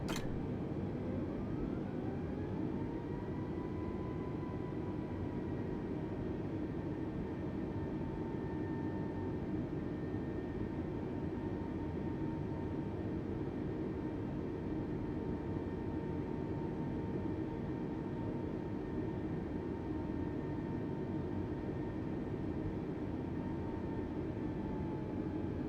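Airbus A320neo jet engines idling after start-up in Microsoft Flight Simulator 2020, a steady, faint whining drone with a rising then level tonal hum over constant broadband rush, unchanging throughout.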